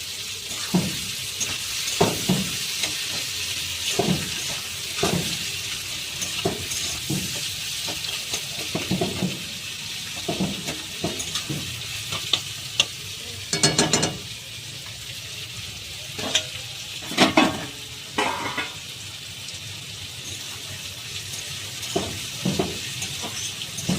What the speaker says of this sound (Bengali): পেঁয়াজগুলো নরম এবং লালচে করে ভেজে নেবো।